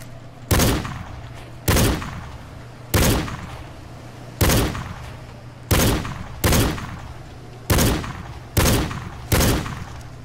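Shotgun blasts from the hunting video game Cabela's Dangerous Hunts 2013, eight loud, sharp reports spaced roughly a second or more apart, each with a short decaying tail over a steady low hum.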